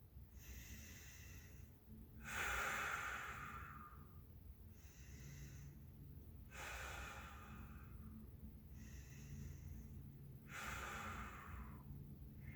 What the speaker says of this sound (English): let's demonstrate here with 3 short breaths,